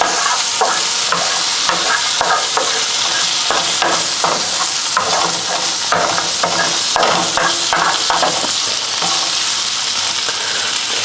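Food is stirred and fried in a pan with a slice of cheese broken up among the ingredients, giving a steady loud sizzle broken by repeated scraping strokes of the utensil, close and continuous with no talk.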